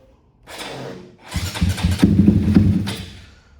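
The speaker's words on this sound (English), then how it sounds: "So we'll do a little bit of a cold start here." A modified 30+ hp Honda Grom with a GF210 engine cold starts on a cool 50-degree day: a cranking whir, then the engine catches and revs up into a loud, rough idle close by.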